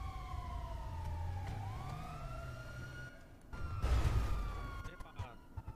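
Police car sirens wailing during a chase in GTA V, rising and falling tones sweeping across the clip, with engine rumble and a burst of louder noise near the end, no speech.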